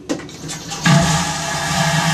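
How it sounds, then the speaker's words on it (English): A cruise ship cabin toilet flushes with air suction: a short click, then a sudden loud rushing whoosh that holds steady, close and alone. "They don't use much for water in those stools. It's a lot of it, I think, is air suction."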